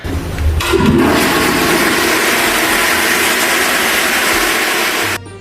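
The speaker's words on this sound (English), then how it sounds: "I don't fucking hear the toilet flushing, Barack." A toilet flushing close by, a loud rushing surge of water that holds steady for several seconds and then cuts off abruptly, with no talking.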